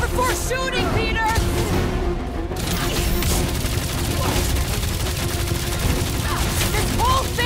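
Dense, continuous gunfire fills a battle in the Marvel's Guardians of the Galaxy video game, loud and close, with rapid shots and booms, while characters shout over the shooting.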